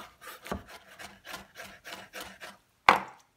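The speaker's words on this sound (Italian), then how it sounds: "Tritare i pomodori molto finemente." A knife finely chops tomatoes on a board, about a dozen quick strokes, followed by a louder scraping clatter.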